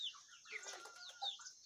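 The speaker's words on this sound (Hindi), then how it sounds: "बांग दे रहा है।" A rooster, one of a pair of young pet chickens, crows in a few rising, strained calls close by, with no other sounds around.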